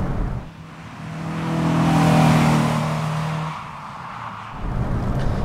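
A Honda S2000 sports car engine revs and accelerates on an open road, with a steady motor drone that rises in pitch, peaks and then eases off, heard close and alone.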